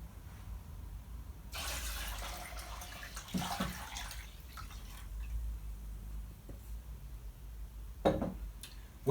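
Water poured into a cooking pot with meat and beer for Mrs Beeton's hodge podge stew, a soft continuous splashing pour with a few clinks, fairly faint and close.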